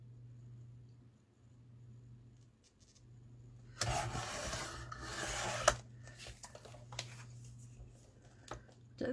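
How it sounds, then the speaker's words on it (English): Craft paper being trimmed for a handmade folio, a close rasping, rubbing cut that starts abruptly after a quiet stretch, with a few short scraping strokes and taps following, over a low steady hum. "I'm just going to trim that down."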